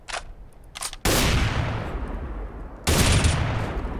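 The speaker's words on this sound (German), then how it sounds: "Schuss sitzt und das ist vor allem Kenny S gewesen" Automatic gunfire bursts in a Counter-Strike match on the de_cache map, two loud sustained volleys of rapid shots following a few sharp short reports, close and dominant with no talk over them.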